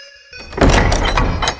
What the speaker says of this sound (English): And there's the door closed.